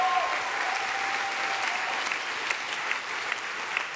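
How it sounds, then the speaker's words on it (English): An audience at a global CEO panel claps, a dense steady round of applause sustained for several seconds from a large crowd. "Just give her another little round of applause"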